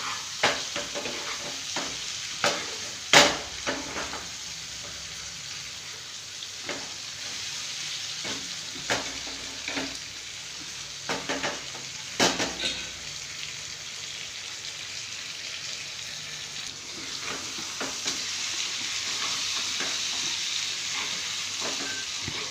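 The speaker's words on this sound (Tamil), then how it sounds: "மீன் கையை பெரட்டி போடணும், மீன் உடையாமல் சேர்த்து மெதுவாக கிண்டி நல்லா வேக விடணும்" Fish fries in spiced masala oil and is gently stirred and turned in a home kitchen. A steady, crackling sizzle runs throughout, broken by occasional sharp clinks and scrapes of the utensil against the pan, with no talking.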